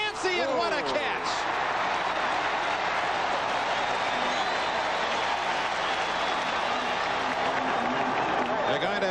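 A Washington football crowd roars continuously at the 1982 Rose Bowl against Iowa, a dense, loud stadium wash of cheering that holds steady throughout, with a commentator talking over it.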